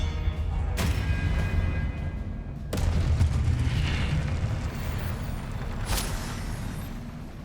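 Expelliarmus spell cast in the video game Hogwarts Legacy, heard as a few loud booming magical bursts over a steady rumbling game soundscape, no talking.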